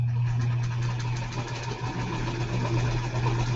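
A sewing machine runs continuously while stitching quilt fabric for a baby mystery quilt, a steady mid-pitched motor hum with a fine rapid mechanical chatter, close and fairly loud, with no talking.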